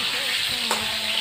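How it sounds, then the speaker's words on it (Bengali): Chunks of potato and pointed gourd fry in hot oil tempered with white cumin seeds, a close, steady sizzle with a faint scrape of stirring partway through. "আলু আর কাঁকরোল একসাথে লাল করে ভেজে নেব।"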